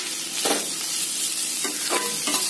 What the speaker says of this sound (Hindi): इसको अच्छे से भून कर फ्राई कर लेंगे 2 to 3 मिनट।